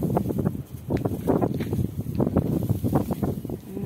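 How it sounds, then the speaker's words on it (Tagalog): Strong wind roars and buffets the microphone in uneven gusts, with rustling mixed in and no clear speech. "Grabe, ang lakas ng hangin."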